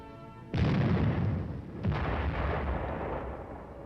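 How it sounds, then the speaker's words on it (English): An M52 105-millimeter self-propelled howitzer fires two loud, heavy booms about 1.3 seconds apart, each followed by a long rumbling decay, with no voices. "The M52 105-millimeter howitzer provides support from close range for the armor team."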